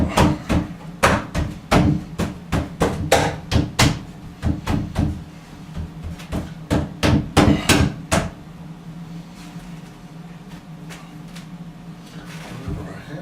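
A hammer strikes a wooden door being cut down, about twenty sharp knocks in quick uneven bursts for roughly eight seconds. After that comes quieter handling noise with faint talk in the background.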